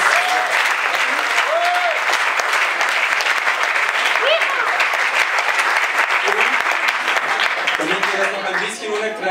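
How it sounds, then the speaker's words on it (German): Sustained audience applause at a science slam at the University of Fribourg, dense clapping filling the room, with a few voices calling out over it and the clapping thinning toward the end. "Ein Applaus!"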